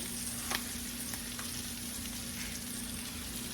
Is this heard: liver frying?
yes